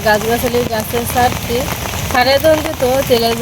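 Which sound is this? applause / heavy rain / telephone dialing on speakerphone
heavy rain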